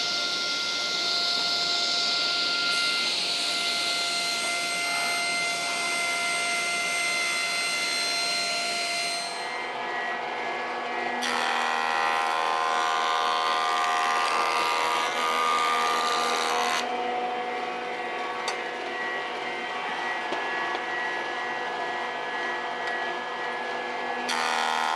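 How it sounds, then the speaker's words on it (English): Table saw ripping router marks off an oak board, a loud sustained whining cut lasting most of the span, with a brief pitch change midway and no talk. "this piece of wood has some router marks on it, so I'm going to first start off and cut those off"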